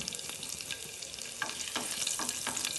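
Garlic frying in hot oil in a pan for tuar dal palya, a steady close sizzle with crackles and the scrape of stirring throughout.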